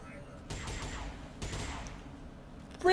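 Soldiers in XCOM 2 fire two bursts of gunfire about a second apart, each a loud crackling rattle fading into echo, followed by a brief sharp sound at the end.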